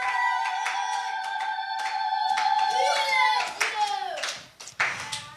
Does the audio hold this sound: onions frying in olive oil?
no